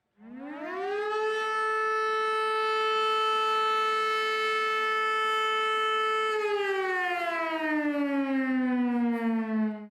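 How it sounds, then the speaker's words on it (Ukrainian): A civil defence air raid siren rises into a long, steady wail, then slowly winds down in pitch, loud and unbroken with no other sounds. "Це той самий сигнал, який всі ми чуємо під час оголошення повітряної тривоги."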